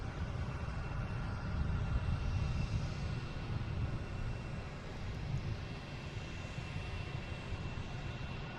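A distant airliner takes off from Boston Logan bound for Portland, Maine, its engines a faint, steady low rumble that holds evenly throughout with no voices over it.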